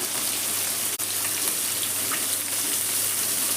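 Small mola carplet fish fry in oil in a wok over a high gas flame, giving a steady, loud, close sizzle that continues evenly with one brief dip.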